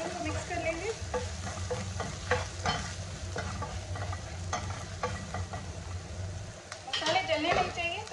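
A spoon works spices and half a teaspoon of chili flakes through hot oil for a keema samosa filling: continuous close frying hiss with scraping stirs and light pan clatter throughout.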